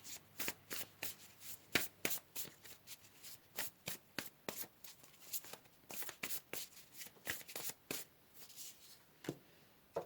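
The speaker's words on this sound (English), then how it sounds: "Let's pull another card, group number 2." A tarot deck is shuffled by hand, with quick, close riffling bursts of cards in an irregular rhythm and short pauses between them. The sound is soft and heard alone.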